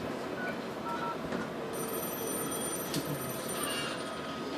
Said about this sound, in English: here we can see the analog phone is ringing